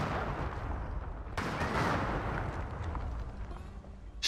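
A grenade goes off in the video game Worms Ultimate Mayhem: a dense, rumbling blast with a sharp burst partway through, loud and sustained over continuous game noise.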